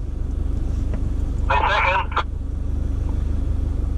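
Engine of a 4WD vehicle labouring up a very steep climb in second gear, a steady loud low rumble throughout with a brief burst of a nearby voice over it midway.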